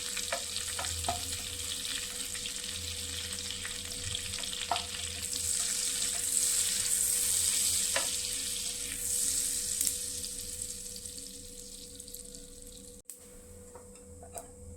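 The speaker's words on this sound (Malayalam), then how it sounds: "ബട്ടർ ചേർത്ത് കൊടുക്കാം. ജീരകം ചേർത്ത് കൊടുക്കാം." Cumin seeds sizzle in melted butter in a pan, a steady, close crackling hiss with a few sharp clicks, briefly cutting out near the end before resuming softly.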